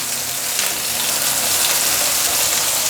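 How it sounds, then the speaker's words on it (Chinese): Tofu skin (bean curd) frying in oil in a pan for a vegan home dish, a steady close hiss and crackle of sizzling running evenly throughout with no talk. "把豆包煎煎，等下再来卤。"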